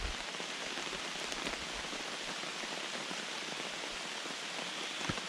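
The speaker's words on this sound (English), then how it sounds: "So yeah, chucking it down the rain." Heavy rain pours down on a wild hammock camp on Dartmoor, a steady dense hiss with scattered drops pattering nearby, continuous and even throughout with no voices.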